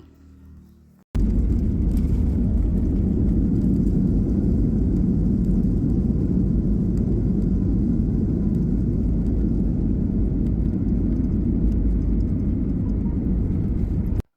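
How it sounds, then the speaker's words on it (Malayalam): Passenger airplane landing at Nedumbassery airport in Kerala, heard from inside the cabin at a window seat: a sudden loud low rumble and engine roar begins about a second in and holds steady until the end. "ഇപ്പോൾ എയർപോർട്ടിലെത്തി ഇപ്പോൾ ലാൻഡ് ചെയ്തു"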